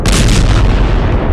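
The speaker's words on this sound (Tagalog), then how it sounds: "Ito, boga tawag dito." A homemade boga cannon made from joined cans and fuelled with thinner goes off with a loud, close boom and a rumbling tail during New Year festivities.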